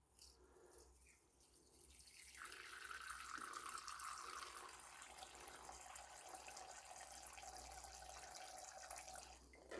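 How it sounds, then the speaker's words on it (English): Water runs steadily from a tap into a pet's water bowl, a continuous close splashing fill that swells after the first couple of seconds and holds level, with no talking. "Let's put the water in there."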